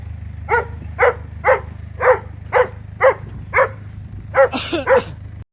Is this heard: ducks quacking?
no